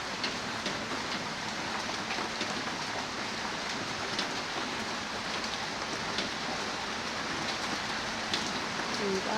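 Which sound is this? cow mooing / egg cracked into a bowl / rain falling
rain falling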